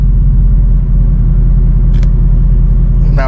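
A Chevy Tahoe engine idling with cylinder deactivation in V4 mode, a loud, steady low rumble heard close up from start to finish, with a brief faint click partway through.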